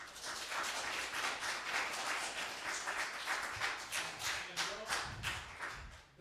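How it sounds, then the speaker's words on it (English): An audience at a leadership talk claps, individual hand claps audible in a moderately dense round that thins toward the end as a voice begins underneath. "So big round of applause."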